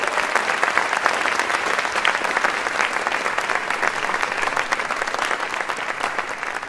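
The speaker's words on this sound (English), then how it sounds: "please, a round of applause for everybody" An audience at a wind music festival concert applauds the performers, loud sustained clapping from a large crowd that stays dense and even throughout.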